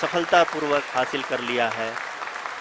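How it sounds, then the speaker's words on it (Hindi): Applause fills the mission control room during the Chandrayaan-3 lunar landing, running steadily beneath a man's close, continuous commentary that dominates the sound. "आप तालियों के गड़गड़ाहट से सुन सकते हैं कि"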